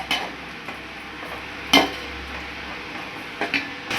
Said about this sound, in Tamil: எல்லாத்தையும் சேர்த்து நல்லா மிக்ஸ் பண்ணிடலாம்.